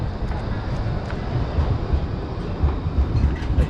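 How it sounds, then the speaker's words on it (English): A tram rolls through Katowice market square, its steady low rumble and rattling wheels close by and fairly loud, with faint outdoor bustle around it. "The tram is coming quite a bit."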